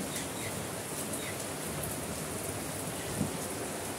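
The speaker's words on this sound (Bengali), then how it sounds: "এত সুন্দর একটা বৃষ্টি কে কে উপভোগ করতেছেন আমার মতো" Steady rain falls at a rural home where chickens are kept, a dense even hiss with no breaks and one brief soft knock near the end.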